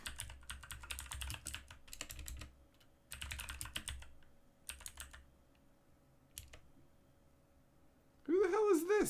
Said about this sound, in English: Why don't I just type in that name?